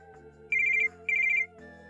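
A telephone ringtone signals an incoming call: two quick electronic trilling rings, each about a third of a second long and separated by a short gap, clear and close over a quiet background hum.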